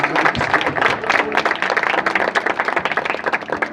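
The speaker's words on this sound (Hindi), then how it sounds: "जोर से ताली जाके प्रभु को धन्यवाद" A church congregation claps loudly and steadily during a worship service, a dense continuous patter of many hands filling the room for several seconds without a break.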